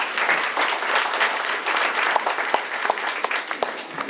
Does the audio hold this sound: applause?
yes